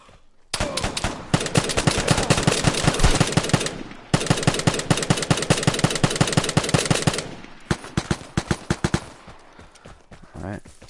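Sustained automatic gunfire in the video game Vigor, dense rapid bursts firing nearly nonstop for several seconds, then a short break and another long burst, ending in scattered single shots as the magazine runs dry.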